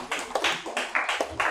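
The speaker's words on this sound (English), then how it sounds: "Don't be tired of clapping." An audience claps at a hackathon grand finale, a short burst of sharp, close hand claps in a quick, uneven rhythm, loud and alone without speech.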